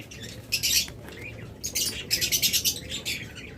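Pet lovebirds, budgerigars and cockatiels sold as breeding pairs chirp and squawk nearby in sharp bursts, some quick and rhythmic, against a low room hum.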